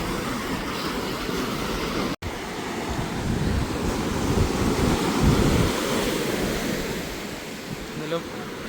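Ocean waves breaking at Vypin beach in Ernakulam, a continuous loud roar of surf swelling and receding, mixed with heavy wind buffeting the microphone.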